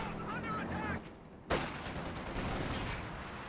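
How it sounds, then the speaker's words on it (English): Soviet conscripts fire rifles in Company of Heroes 2, with scattered gunshots and a sharp loud burst midway amid dense battle noise, while a commentator speaks over it. "Conscripts firing away."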